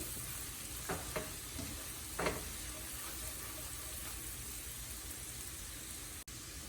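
Spice paste with turmeric and salt sizzles quietly in a pan while being cooked down for spinach chicken, a steady soft frying hiss broken by a few light stirring scrapes.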